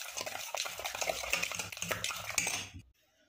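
Rapid whisking of powdered sugar in a bowl for a jaggery fruit cake batter, a close, steady clatter and scrape lasting almost three seconds before falling quiet.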